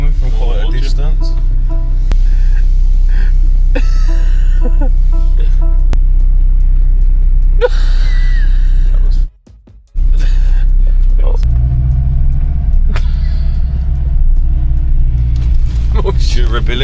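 A Mercedes-AMG C63 S car rumbles loud and close as it is driven hard, with a deep steady engine drone under frequent talk and a brief sharp dropout midway before the rumble swells again.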